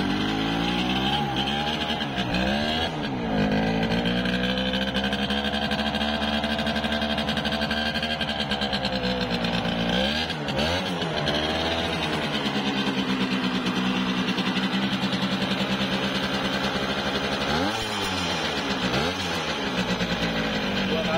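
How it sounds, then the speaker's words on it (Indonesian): A 1962 Suzuki MA 50cc or 1967 Honda S90 vintage motorcycle runs steadily right after a cold start, a continuous close engine drone with a few rev swells, under someone talking throughout. "Jadi ini tadi juga tidak pakai dipanasi, langsung starter aja."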